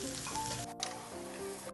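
Ridge gourd chutney ingredients sizzle and crackle steadily in a pan with a soft, even frying hiss, and faint background voices.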